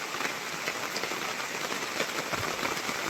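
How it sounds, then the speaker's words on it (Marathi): Heavy rain pours down in a dense, unbroken hiss of drops striking surfaces nearby, steady and moderately loud throughout, with no voices. "पाऊस जोराचा आला"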